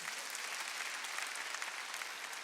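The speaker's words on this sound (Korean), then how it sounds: "박수야." A church congregation applauds during a worship service, a steady dense clapping that fills the whole stretch at moderate loudness with no voices over it.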